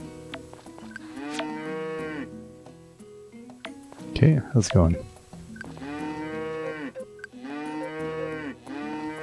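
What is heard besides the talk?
cows mooing in the video game Story of Seasons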